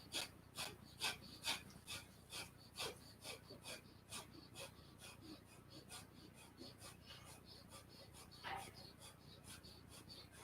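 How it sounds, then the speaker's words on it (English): Rapid, forceful nasal exhales of Kapalabhati yoga breathing repeat in a quick even rhythm, each a short sharp puff, close but quiet, with softer breaths and rustling between. "We're going to do the Kapalabhati breath here again."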